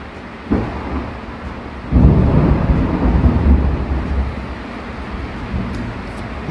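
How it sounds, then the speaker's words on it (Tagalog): Thunder rumbling in a storm, a deep low roll that swells suddenly and then lingers with steady rain-like noise under it, fairly close and loud. "Lakas ang kidlat ah."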